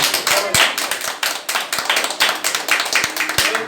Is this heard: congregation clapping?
yes